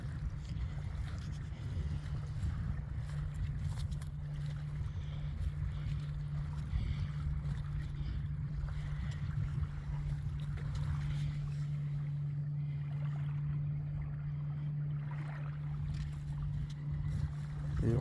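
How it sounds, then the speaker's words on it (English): Boats on a river, a low continuous engine hum with a steady drone that shifts slightly in pitch, heard from a riverbank amid faint wind, with no talking. "I have to hear a few boats,"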